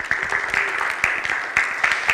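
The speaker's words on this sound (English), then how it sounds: "Give a round of applause for our YIMBY crew" Audience applause at a livestreamed housing event, recognizing the event crew, with scattered claps rising in uneven bursts at moderate loudness rather than one steady roar.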